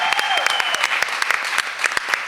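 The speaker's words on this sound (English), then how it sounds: "We have to give them another round of applause." An audience at an arts showcase with poetry and music applauds a performing father and daughter: thick, lively clapping with distinct sharp claps standing out, and a faint whistle or cheer drifting through it.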